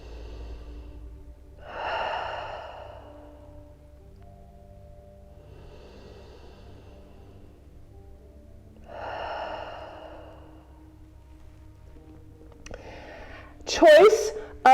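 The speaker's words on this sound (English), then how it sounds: "Crocodile breath. Inhale to your belly. Exhale, let it go." Slow, deep belly breathing during yoga crocodile breath: two long, soft, airy breaths about seven seconds apart, close and calm, over a low steady hum, ending with brief louder sounds.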